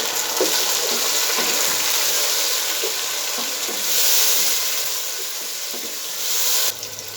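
Six chopped tomatoes tossed into onions frying golden for a black chickpea curry, making a steady, loud, close sizzle with soft irregular stirring knocks running throughout, no voices.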